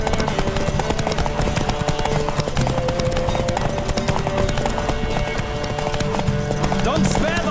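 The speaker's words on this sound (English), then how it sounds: "Don't spare the horse!" Rapid, rhythmic hoofbeats of a galloping horse in The Witcher 3 video game drum continuously and loudly, with voices and busy background sound layered over them.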